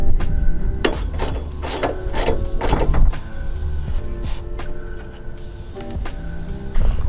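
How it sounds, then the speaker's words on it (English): A ratchet tightening 15mm nuts on a bash bar under a 240SX, with irregular clicking bursts and metallic clatter close by, no talking. "They are 15mm nuts or bolts, and then there is two right there. We'll go ahead and tighten those up,"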